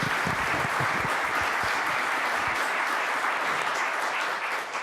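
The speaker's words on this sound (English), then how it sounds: "Let's give our speakers a round of applause." An audience at a voting rights panel event applauds the panel speakers, a steady, dense wash of clapping that holds evenly for about five seconds with no talking over it.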